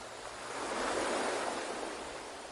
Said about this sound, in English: waves rising and falling